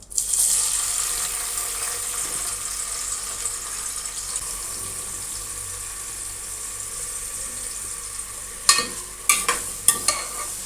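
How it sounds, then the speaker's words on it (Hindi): Onions frying in hot oil for mutton biryani give a continuous bright sizzle that eases off over time, followed near the end by several louder stirring scrapes. "ऑयल मेरा गर्म हो चुका है। अब मैं इसके अंदर प्याज ऐड कर रही हूँ।"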